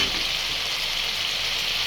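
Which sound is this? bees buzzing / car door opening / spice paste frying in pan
spice paste frying in pan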